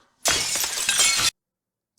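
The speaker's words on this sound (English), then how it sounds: "Their only mistake was breaking the glass when they removed it." Glass shattering in a scene from the Sherlock series: one loud, bright crash lasting about a second, then abrupt silence and a small trailing rattle.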